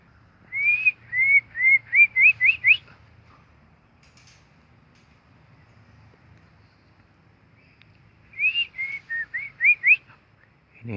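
Lovebirds whistle from a breeding aviary behind a wall, two bursts of rapid rising chirps a few seconds apart, moderately close, with quiet low background rumble between them.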